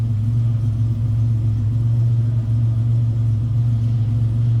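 A 1987 Buick GNX running at an exit, a strong, steady low engine drone with a firm hum throughout, close and constant without clear revving changes.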